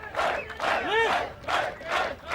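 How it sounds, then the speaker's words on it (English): A strongman competition crowd roars and whoops after Magnus Ver Magnusson's 425-kilo lift, loud waves of cheering and yelling rising and falling in quick bursts with no talk over it. "The crowd certainly like that."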